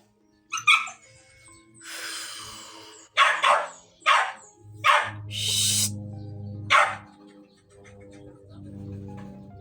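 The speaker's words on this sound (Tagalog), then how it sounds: "Nagtatahol-tahol kasi gusto niyang lumabas." An indoor dog that wants to go outside barks in several separate loud bursts, with yips and whimpers between them, close by and intermittent.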